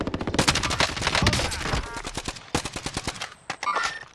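Rapid automatic gunfire in a video game shootout, loud, close bursts of sharp rhythmic shots that pause briefly and resume, mixed with quick talk.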